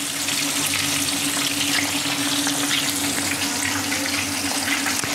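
Chicken pieces frying in oil on a low flame for KFC-style fried chicken, a steady dense sizzle that holds at an even level throughout, with no talk over it.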